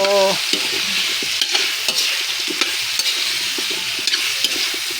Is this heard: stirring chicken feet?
yes